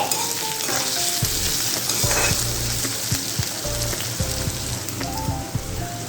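Pulao with bay leaves and turmeric is stirred in a pan, giving a loud continuous frying sizzle broken by scattered clicks and knocks from the spoon against the pan. No one speaks.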